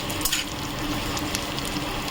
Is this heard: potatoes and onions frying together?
yes